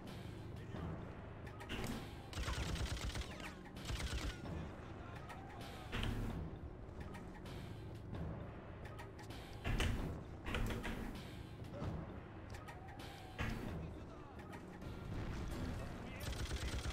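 Sustained gunfire in the Freedom Fighters video game, with shots and bursts hitting from behind amid dense battle noise, loud and continuous throughout.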